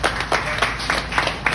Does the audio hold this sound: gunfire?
no